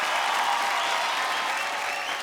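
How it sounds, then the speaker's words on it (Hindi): Loud, dense applause from an awards-show audience welcoming a singer to the stage in London, a steady wash of many hands clapping throughout without a break. "जोरदार तालियों से स्वागत कीजिए"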